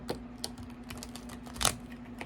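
A small, stiff tarot card deck is shuffled, giving quiet, irregular light clicks and riffling snaps spread across a couple of seconds, faint and close, over a low steady hum.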